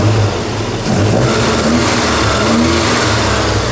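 Volvo 240 engine fitted with twin Dellorto carburettors, revving up and down close by in short blips over a steady running note, loud with no talk.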